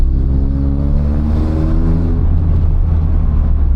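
A square-body Volkswagen Gol car accelerating, its engine a loud, steady, close drone with the pitch climbing and then evening out; no voices.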